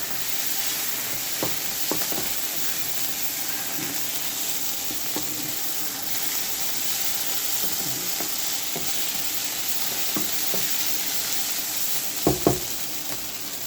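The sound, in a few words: chicken in sauce sizzling while being stirred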